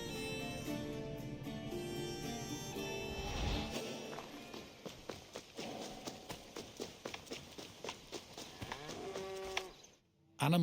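Cattle on an ancient Greek farm give a long, loud, drawn-out moo, followed by a steady run of hoof clip-clops and footsteps until a brief gap near the end.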